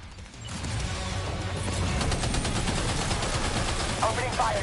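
Gunfire in the video game Death Stranding 2: On the Beach, a loud sustained stream of rapid shots and crashing impacts over heavy low rumble, with a voice briefly heard near the end.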